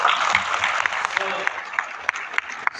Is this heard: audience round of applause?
yes